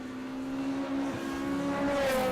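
Several race cars sweep into a track complex at a Taupo circuit race, engines holding a steady droning tone that rises slightly as they approach, loud and continuous with no talking.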